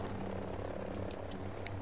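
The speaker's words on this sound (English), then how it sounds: "Your helicopter." A steady helicopter drone in the video game Ghost Recon: Breakpoint, with a low thumping rotor hum, continuous and fairly distant, with faint higher tones flickering over it.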